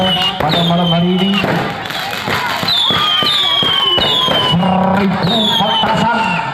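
A night fireworks party with a thousand firecrackers: repeated sharp bangs and crackles, rising whistles, loud and close amid a noisy crowd with voices.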